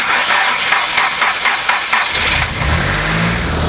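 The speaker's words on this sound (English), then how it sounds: "this small battery pack, the GB30, just about managed to start the Nissan Silvia S15" A Nissan Silvia S15 engine cranks in rapid, even pulses off a small Noco GB30 jump pack, then catches and fires into a loud, rough idle close by.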